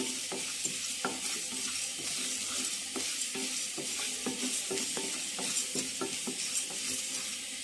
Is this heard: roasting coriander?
yes